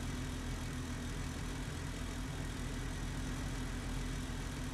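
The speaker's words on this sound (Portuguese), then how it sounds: "O motor já tá danificado já, ó." A damaged Audi engine in the BeamNG.drive driving game idles with a steady, low drone and faint knocking, continuous and fairly quiet for the whole stretch with no voices.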